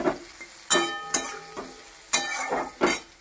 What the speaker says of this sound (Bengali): আর এখানে সয়াবিনগুলো ভাজছি, একটু লাল করে ভেজে নেবো সয়াবিনটাও।